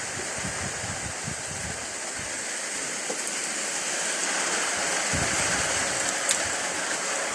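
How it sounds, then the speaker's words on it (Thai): Rain falls steadily at a temple site where a naga statue is being sculpted, a broad continuous wash of hiss with low rumbling patches, moderately loud and without talk. "มาพร้อมกับสายฝนนะครับ"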